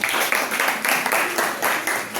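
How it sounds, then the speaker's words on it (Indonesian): A class of students applauds a presenting group, a dense wash of many hands clapping close by, swelling and easing in loose rhythmic waves without any voices. "Tepuk tangan untuk kelompok 2."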